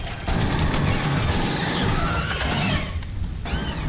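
Gunfire in the shooter game Aliens: Colonial Marines, with rapid bursts of loud shots and crashing impacts packed close together across the clip and no talk over them.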